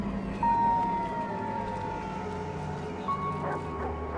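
Ambulance siren in a film scene, a wailing tone sweeping up and down over background noise and low rumble, moderately near and steady with a couple of louder bursts.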